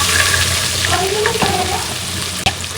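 Chopped onion fries in hot oil, a steady broadband sizzle running throughout with faint stirring scrapes and one sharp click near the end, no talk.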